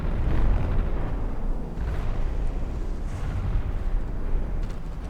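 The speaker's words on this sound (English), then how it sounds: "we just had another couple torpedo hits from the edgelord" Torpedo hits on a battleship in a naval video game come through as deep, rumbling booms that roll on continuously with a few swells in loudness. There is almost no talk over them.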